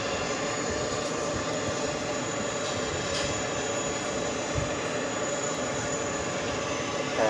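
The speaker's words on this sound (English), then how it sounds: "KLM, flight committed from Amsterdam, just arriving on 22 left" KLM airliner arriving from Amsterdam on runway 22 left at JFK, a steady broad jet roar held at moderate distance throughout, with no talk.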